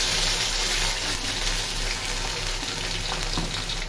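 Onions and spices frying in a pan for chicken biryani, a steady close sizzle that holds at an even level throughout with no talk.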